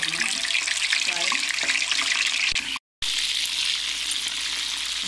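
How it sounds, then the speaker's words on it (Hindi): Koftas dropped into hot oil for a Lahori-style kofta chana dish crackle in a loud, continuous sizzle that cuts out briefly midway, then resumes just as strongly. "ऑयल हो चुका है गरम, अब इसमें हम कोफ्तों को शामिल कर देंगे।"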